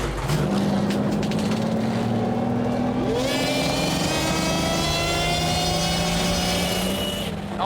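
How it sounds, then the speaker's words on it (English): Supercharged car engines fire up and rev loudly and steadily up close, a continuous roar with rising and falling tones, no talking over them. "Boys, let's start our engines."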